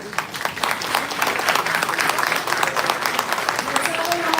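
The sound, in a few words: audience applause for Dr. Manvi Arora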